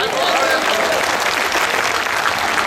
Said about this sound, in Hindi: तो एक बार मेरे सम्मान में भी ताली बजाइए